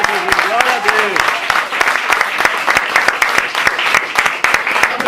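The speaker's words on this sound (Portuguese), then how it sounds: "você pode aplaudir o Senhor bem forte" Church congregation clapping loudly in praise, crisp rapid handclaps close by and energetic, with a few voices calling out briefly at the start.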